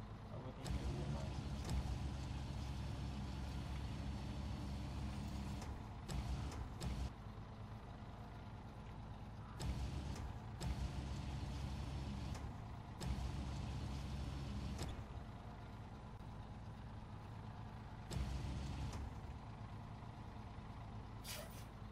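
A heavy truck engine rumbles steadily in SnowRunner, a low continuous drone broken by several short hissing bursts, with someone talking over it.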